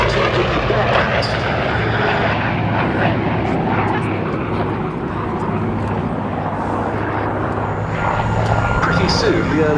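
Goodyear FG-1D Corsair leading an F8F Bearcat in an airshow flypast, a loud continuous piston-engine drone that holds steady throughout, with crowd or commentary voices mixed underneath.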